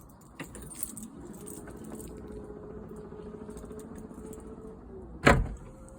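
A steady low mechanical hum ends in a single sharp metallic clunk of an Audi Q3 boot lock latching after a striker mechanism repair, loud and close.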